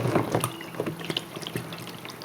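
Used engine oil drains from a Suzuki SV1000S motorcycle into a pan, a steady, close splashing trickle of liquid that runs without pause and with no talking.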